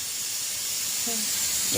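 A pressure cooker boiling potatoes gives off a steady, loud hiss of escaping steam that runs unbroken through the moment, with a faint brief voice near the end.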